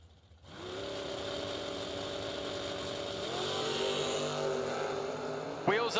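Two Camaro drag race cars launch side by side down the strip with a steady, loud engine roar that climbs in pitch partway through. A sharp burst near the end, with no speech over it.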